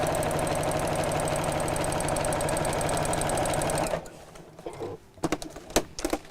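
A sewing machine runs a long gathering stitch on Christmas apron fabric, a steady close mechanical whirr with a fine rapid needle rhythm for about four seconds, then it stops, leaving quiet handling clicks and small knocks.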